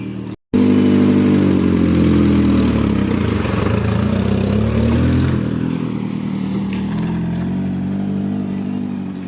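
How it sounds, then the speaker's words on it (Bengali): A driving school car's engine runs loud and close as the car is driven, holding a steady mid-pitched drone with slight shifts in revs and a brief cut near the start. "গাড়িটা চালানো হচ্ছে।"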